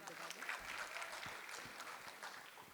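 Audience applause at a mushaira, a Hindi-Urdu poetry gathering, comes as a modest, fairly distant clatter of clapping under a voice.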